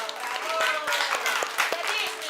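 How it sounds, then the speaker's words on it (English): Children clapping in a classroom built from recycled plastic, a loose scatter of sharp claps from nearby with excited voices chattering over them throughout. "Si vous êtes content, on applaudit"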